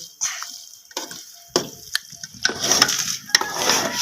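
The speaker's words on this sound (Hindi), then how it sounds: "इसके अंदर मैंने घी डाल दिया और अच्छी तरह आप इसको हम भूनेंगे।" Grated carrots being stirred and fried in ghee, heard as close scraping and shuffling stirs with a soft sizzle underneath, in irregular bursts over a few seconds, without speech.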